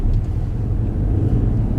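Car engine pulling away during a driving lesson, a steady low rumble that holds near and fairly loud throughout, with no voices over it.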